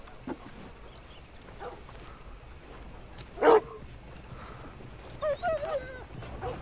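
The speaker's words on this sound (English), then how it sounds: "Oh, hello, doggy." Dog barking inside the Red Dead Redemption 2 video game, a few short barks and yips: one louder bark near the middle, then a quick cluster of three toward the end over a faint game ambience.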